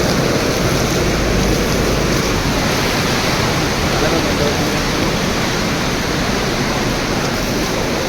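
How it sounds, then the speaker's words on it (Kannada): Water rushing loudly and continuously at the foot-washing place of Kateel Durga Parameshwari temple, a dense, even roar close by throughout. "ನೀರು ಸೌಂಡು ಜಾಸ್ತಿ ಐತೆ, ಎವಿ ಜೋರಾಗಿ ಹರಿತೈತೆ."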